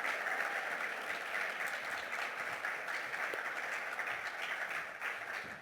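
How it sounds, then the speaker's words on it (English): Sustained audience applause at an annual mental health symposium, a dense even clatter of many people clapping for several seconds, moderately distant. "So please give a huge round of applause for these amazing people."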